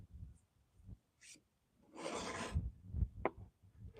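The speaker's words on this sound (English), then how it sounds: "That file's eating it up." A file rasps across the old oak wood of a dresser being refurbished, giving a few short, quiet scraping strokes with uneven gaps between them.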